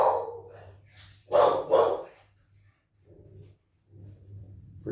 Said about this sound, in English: It's my dog going nuts.